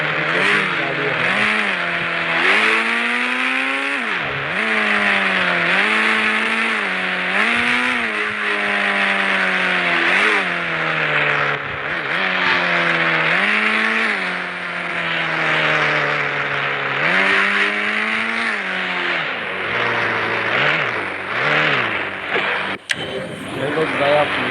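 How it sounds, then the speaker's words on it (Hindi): A Swift car in the video game Free Fire drives and revs steadily, its engine drone rising and falling with gear changes, loud and close, with someone talking over it throughout. "फटाफट गाड़ी में बैठ के भाई लोग निकलते हैं।"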